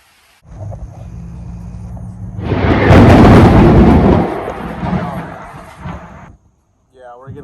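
Thunder rolls through a rainstorm outdoors during a mobile car-detailing job, rising from a steady rainy background into a loud, broad rumbling crash that peaks and slowly fades over several seconds.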